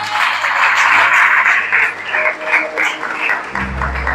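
A church congregation at an Easter service claps loudly and continuously, a dense wash of many hands close by that holds steady for several seconds, with a low tone lingering beneath and then cutting off near the end.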